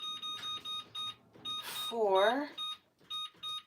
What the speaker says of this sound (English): we're gonna set our timer